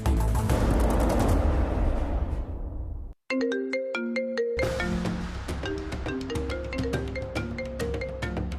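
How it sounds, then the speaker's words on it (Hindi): Loud noisy burst like gunfire, then a brief silence before an electronic phone ringtone plays a repeating melodic pattern of bright tones. "पापा का फोन।"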